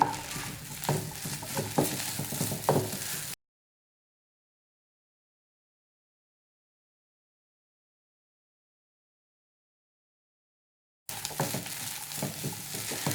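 Green peas and egg sizzle and scrape in a pan during a street-style stir fry, with faint frying and stirring in two short stretches split by a long silence.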